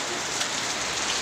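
Heavy rain during a typhoon pours steadily in a dense, even hiss with no pauses, close and loud.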